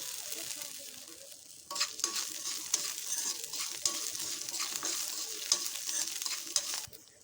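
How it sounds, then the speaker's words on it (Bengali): Garlic fries with grated coconut in a pan, giving a steady sizzle broken by scraping stir strokes that grow busier partway through. "নারকেলটার সাথে একটু ভেজে নেব এর মধ্যে দিয়ে দিচ্ছি রসুন"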